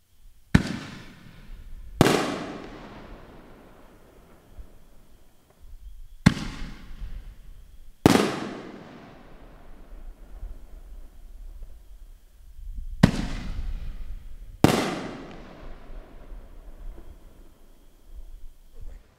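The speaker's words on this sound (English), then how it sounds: "It's the Black Cat 5-inch canister." Black Cat 5-inch canister shell fireworks, packed 4 per case, fire in three paired volleys: each sharp launch thump is followed about a second and a half later by a loud burst that crackles and fades, with no talking.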